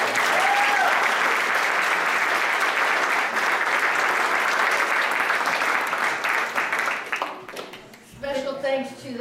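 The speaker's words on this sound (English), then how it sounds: "Another round of applause." A church congregation gives a long round of applause, a full steady wash of clapping that thins out near the end as a voice begins speaking.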